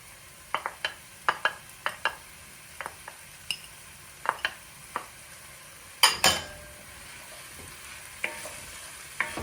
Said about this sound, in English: Stir those 3 ingredients so they're well combined.